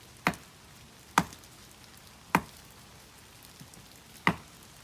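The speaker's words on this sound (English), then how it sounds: "Now we are chopping the fuel into more tinder." Hard birch wood being chopped into tinder outdoors in the rain, four sharp isolated chops spaced about a second apart, with a soft patter of rain between strikes.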